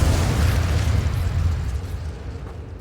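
An Incendio fire spell cast in the Hogwarts Legacy video game erupts as a loud, sustained burst of flame with a deep rumbling low end, fading slightly toward the end, with no voices.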